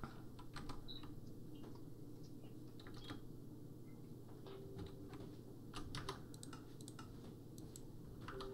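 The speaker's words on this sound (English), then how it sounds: "Would you type something in the chat?" Faint typing on a computer keyboard, a loose string of light clicky keystrokes coming in short irregular bursts over a low background hum.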